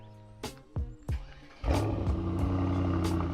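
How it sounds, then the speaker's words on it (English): A Mercedes-AMG E63s engine starts up with a few short cranking bursts, then catches into a loud, steady, rumbling idle close by. "first things first with an AMG, the startup. Let's hear it up."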